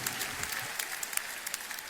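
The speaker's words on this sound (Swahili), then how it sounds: "simwapigie makofi mengine mazuri." Audience applause at a church gathering, a steady patter of many hands clapping at moderate volume through the whole stretch, with no voices over it.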